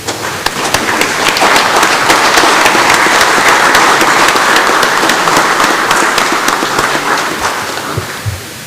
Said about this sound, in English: all of us will rise and give a round of applause to our president and the previous presidents